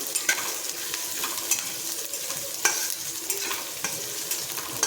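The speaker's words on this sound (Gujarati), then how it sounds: "10 થી 15 સેકન્ડ આપણે એને સાતળી લઈશું." Finely chopped green garlic, ginger and green chillies sauté in a hot pan with a bright, continuous sizzle, broken by a few light stirring scrapes nearby.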